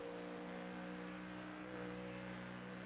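A Ford Mustang GT3 race car engine holds a steady, continuous full-throttle drone on the Nürburgring Nordschleife in iRacing, a constant buzzing tone with no pauses and no voices.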